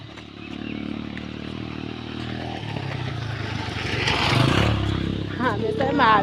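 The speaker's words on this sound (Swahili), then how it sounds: "Si ndio hiyo pikipiki?" A motorcycle approaches on a road and passes fairly close, its engine rising to a louder rumble midway, while people talk over it outdoors.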